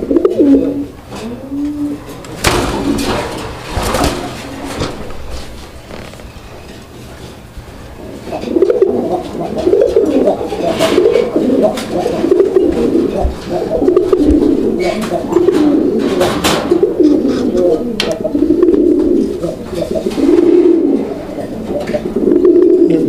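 Raj-golla pigeons coo in a loft in repeated rolling calls, loud and close, with a short pause early on and a few sharp knocks and rustles in between.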